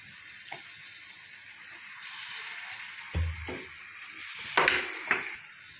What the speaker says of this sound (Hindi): और इतना ही अब हम इसमें सोया सॉस डालेंगे।